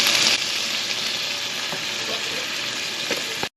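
Shrimp fry in a pan for a lemon arugula salad, a steady close, loud sizzle running throughout with occasional small crackles and no talking.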